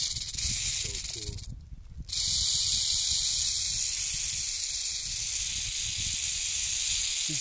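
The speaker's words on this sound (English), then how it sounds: "This rattle is saying, don't bother me more." A rattlesnake in Guatemala shakes its rattle in a steady, continuous dry buzzing hiss that runs through the whole stretch, briefly broken by a loud rustle, with no talking.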